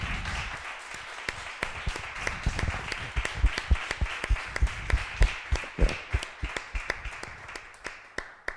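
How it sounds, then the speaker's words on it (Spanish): An audience claps at the close of a conference talk on the consequences of sexual abuse and its treatment, many hands blending into applause with some sharper, distinct claps standing out near the end. "Yo creo que podemos dar un gran aplauso."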